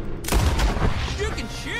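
Gunfire in Red Dead Redemption 2 during a barn shootout: a burst of heavy shots crowds the first second, followed by lighter scattered reports, with excited voices breaking in.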